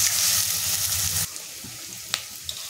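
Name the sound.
onion sautéing in pan until golden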